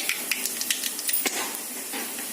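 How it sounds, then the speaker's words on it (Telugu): Tempering spices hit two spoons of hot oil in a pan on a stove, giving a bright, crackling sizzle with scattered sharp pops over a steady hiss, close and alone without talk. "ఆయిల్ హీట్ ఎక్కిన తర్వాత పోపు దినుసులు వేసుకోవాలండి"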